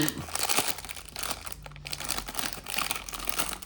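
Toy packaging torn and crinkled open by hand during an unboxing, with close, dense crackling and ripping bursts throughout.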